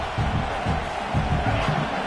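Stadium crowd noise in a football video game on fourth down, a steady, broad roar of cheering from a large distant crowd that holds at an even level throughout.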